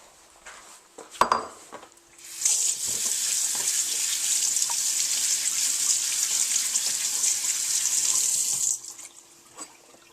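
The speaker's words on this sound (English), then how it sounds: "Then we're going to wash this." A kitchen tap runs steadily as a peeled yam is washed under it, a loud continuous stream lasting several seconds, preceded by a sharp clink of a utensil and ending abruptly when the water shuts off.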